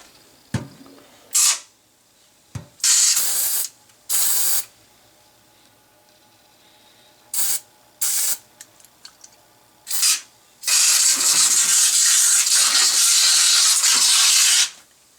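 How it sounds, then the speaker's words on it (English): An aerosol cleaner sprays onto Ibanez Edge tremolo parts sitting in a small tin pan. A few short, sharp hissing bursts come first, then a long, loud continuous spray near the end, with quiet gaps between and no talk. "put all the parts into a little tin pan here and spray it down"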